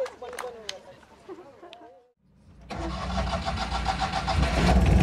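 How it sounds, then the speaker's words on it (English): Citroen 2CV engine cranks and catches after a brief quiet, settling into a loud, steady air-cooled idle close by; people talk and chatter before the start at a classic car convoy event. "Okay, we've got engine started."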